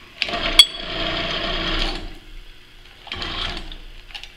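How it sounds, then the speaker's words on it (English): An electric hoist motor runs in a workshop, a steady mechanical whir lasting about two seconds, then a short second run after a pause, with a clunk at the start. "Trouble with using an electric one, has to have power."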